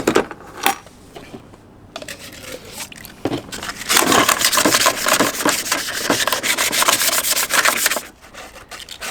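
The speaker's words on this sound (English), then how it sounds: "So, just want to scuff it up a little bit to hold the paint is all." Painted metal ammo can being scuffed by hand before repainting, with a few scattered scrapes followed by several seconds of loud, rapid, rough rubbing strokes that stop abruptly near the end.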